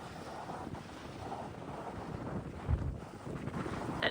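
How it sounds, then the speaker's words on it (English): Wind gusting against the microphone outdoors in winter, a steady low rumble with a stronger buffet near the end, fairly quiet and with no talking. "Now I'm going to get out of this wind and go have some lunch."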